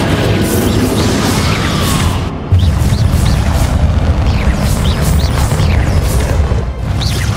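Repeated booming blasts of the Confringo explosion spell in the Hogwarts Legacy video game, loud and continuous with a brief dip in the middle, under game music and effects.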